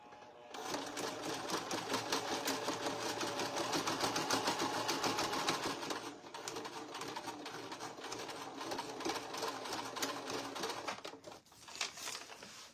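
Home sewing machine running steadily and stitching fabric, locking in stitches, with a continuous rapid mechanical whir and needle clatter that stays loud for most of the time, briefly dipping midway.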